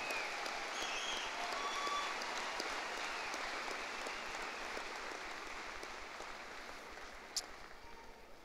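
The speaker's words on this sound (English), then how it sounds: "how about another round of applause for our graduating seniors, members of the band" Sustained applause from a high school commencement audience honoring graduating seniors of the band and chorus, a dense steady clapping that holds evenly throughout and fades only slightly toward the end, with no voices over it.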